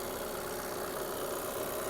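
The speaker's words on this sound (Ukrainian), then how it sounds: "Гляньте, як працює двигун" A 2018 Volkswagen T6 long-wheelbase van with DSG gearbox idles with a steady, even rumble and a faint vibrating rattle, close by and unchanging throughout.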